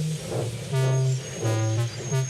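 A steam engine train puffs away in steady rhythmic bursts, loud and close, with several chuffs and a whistle-like tonal wail over a low rumbling base.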